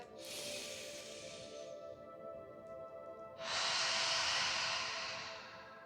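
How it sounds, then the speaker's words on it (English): Slow breathing during a yoga hip-opening flow: a long breathy inhale through the nose, a pause, then a louder, fuller exhale through the mouth, close and alone with no talk. "Inhale in through your nose. And exhale out through your mouth."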